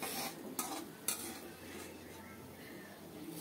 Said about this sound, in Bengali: এখন ফুটন্ত ডালে ফোড়নটা দেব